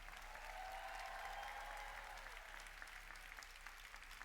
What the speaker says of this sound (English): please join me in expressing our appreciation with a round of applause for our faculty